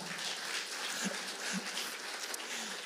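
Congregation applauding during a church sermon, a steady broadband wash of clapping from a crowd with a few faint low bumps, moderately distant and even throughout.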